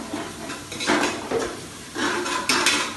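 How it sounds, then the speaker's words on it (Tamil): Onion, ginger and garlic sautéing in a pan for chicken biryani: a spoon scrapes and clinks against the metal pan in uneven strokes over a soft steady sizzle, close and fairly loud, no talk. "வெங்காயம் இஞ்சி பூண்டு நல்லா வதங்கிச்சு"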